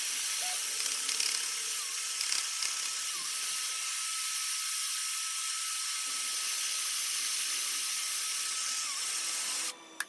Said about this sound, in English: So now it's time to sand the base here, and I'll show you a little bit of that.